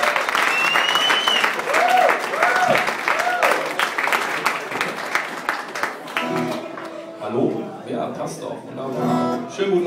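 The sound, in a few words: audience applause for a performer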